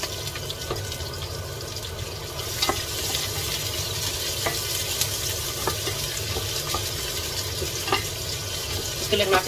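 Garlic and onion sizzle in a pan for Filipino pansit, with steady frying hiss, intermittent spatula scrapes and taps, and some faint voice in the background.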